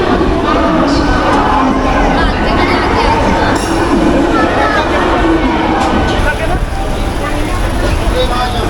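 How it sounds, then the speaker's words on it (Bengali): Loud, continuous rumble of a local train rolling in to a platform at Santragachi station, Kolkata, with rattling wheels, heavy and close, with voices in the background. "ট্রেনটা এখন ঢুকছে আট নম্বর প্ল্যাটফর্মে"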